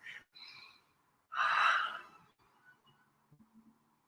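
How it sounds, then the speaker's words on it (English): Deep breathing during a beginner yoga session for tight hamstrings: a short inhale and exhale, then a long, loud, close sigh-like exhalation, followed by quiet faint breaths in a still room. "Do 3 rounds of breath."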